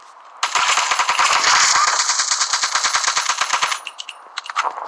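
Rapid automatic gunfire from an animated gun skin in Call of Duty Mobile, a loud sustained burst of closely spaced shots lasting about three seconds, then a few scattered trailing clicks and shots.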